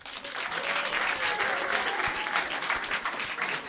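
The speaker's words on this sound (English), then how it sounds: "And by a round of applause, how many of you are dog people?" A stand-up comedy audience breaks into full, dense applause, sustained and fairly loud throughout, with some cheering voices blended into the clapping.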